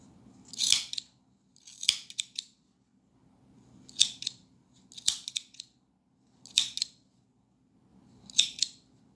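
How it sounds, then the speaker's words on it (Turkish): Scissors trimming the yarn of a handmade pompom, six crisp close snips spaced about a second apart over a low steady background hum, with no voices. "makasımızla keserek pomponumuzu şöyle yuvarlayabiliriz"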